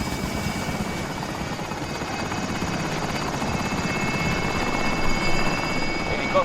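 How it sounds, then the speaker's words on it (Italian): A helicopter in the video game Call of Duty Warzone drones loudly and steadily throughout. The continuous rotor and engine whir holds at an even level with no talk over it. "Elicottero in posizione."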